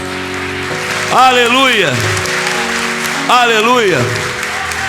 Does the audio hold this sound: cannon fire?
no